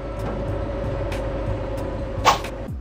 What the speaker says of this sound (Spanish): oye nomás ese sonido del motor